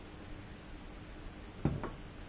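Organic ghee melting in a pan for beef curry gives a steady, faint sizzling hiss, with a short pair of soft clattering knocks near the end.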